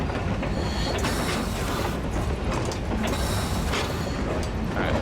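A train in the video game Metro Exodus rumbles steadily with clanking, ratcheting mechanical noise and periodic metallic knocks, loud and continuous with no talking.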